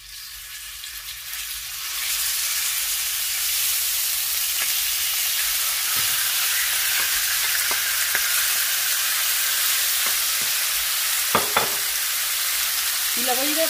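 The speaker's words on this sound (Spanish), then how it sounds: "Primero voy a agregar el pollo." Pieces of chicken for fajitas hit hot oil and burst into a loud, steady sizzle that holds throughout, broken by a few scraping stirs near the end.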